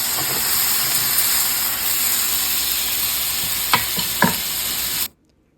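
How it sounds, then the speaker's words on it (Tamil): Potato and okra masala frying in a pan, stirred with a steady close sizzle and a couple of sharp spatula scrapes near the end before the sound cuts off abruptly to silence. "நல்லா அடி ஒட்டாமல் கிளறி அதை ஒரு மூடி வச்சு மூடிடணும்"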